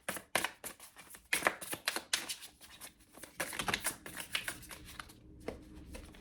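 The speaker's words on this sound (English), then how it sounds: "Just shuffle." A deck of tarot cards is shuffled by hand in a quiet room, giving repeated quick riffling and flapping bursts in an uneven rhythm, close up, with no talking.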